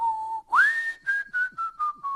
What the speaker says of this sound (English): I'm a good whistler. I keep a good tune in terms of whistling.